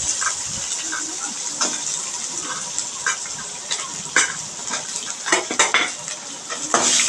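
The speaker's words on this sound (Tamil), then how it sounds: "நல்லா வதக்குங்க" Onion, ginger, garlic and green chillies being sautéed in a pan for coriander chutney, with a metal spoon scraping and clanking against the pan over a steady sizzle.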